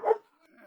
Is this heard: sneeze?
no